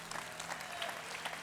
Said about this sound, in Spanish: Give him an applause.